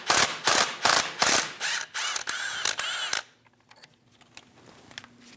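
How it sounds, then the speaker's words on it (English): Ratchet with a 10mm socket backing out a bracket bolt on a 2001-2006 Chevrolet Silverado 2500 front wheel, several loud close clicking strokes that end abruptly, followed by quiet handling noise. "Using a 10mm socket, remove the bolt for the bracket."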